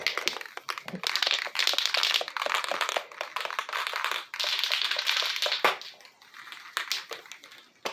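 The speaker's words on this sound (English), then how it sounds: "make sure you shake these cans up real good too." Rapid rattling and clacking from a can being shaken hard, an irregular metallic rhythm close up, with brief pauses between bursts.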